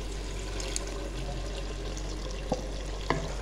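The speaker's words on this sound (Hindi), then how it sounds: "अब इसी जग के अंदर मैंने थोड़ा सा पानी शामिल करके वो भी इसके अंदर ऐड कर देना है।" Ground onion, tomato and yogurt paste mixed with water is poured from a jug into a pot of cooking chicken, a faint sizzle and soft liquid hiss with a few small clinks.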